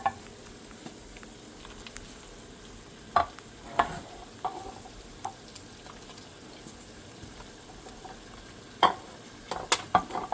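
A spoon stirs cream of mushroom soup into a gravy in a pan, giving soft, scattered scrapes and taps over a quiet, faint bubbling background, with a few sharper clinks near the end.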